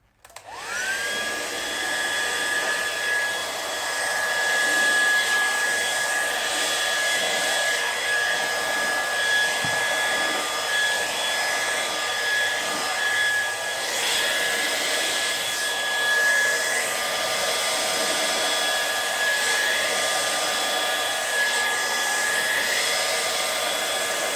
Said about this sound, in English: Let's get the hairdryer out, cool setting, and just blow things around.